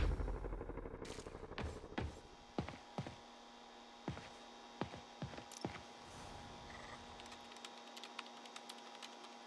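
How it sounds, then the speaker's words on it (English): Gunfire in the video game Spider-Man on PS4, with sharp, separate shots cracking at an uneven pace over a steady electronic hum, fairly faint overall. "We're taking fire."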